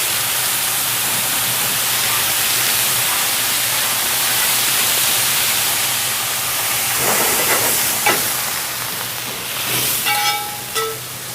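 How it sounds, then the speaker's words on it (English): A tofu and vegetable curry stir fry hisses loudly and steadily as water is added to the hot pan, a broad steamy sizzle that continues with a few clatters and knocks of utensils near the end. "when I stir fry food, I like to add a little water"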